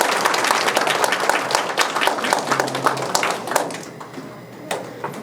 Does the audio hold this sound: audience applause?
yes